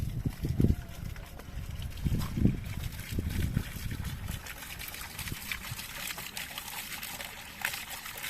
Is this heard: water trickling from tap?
yes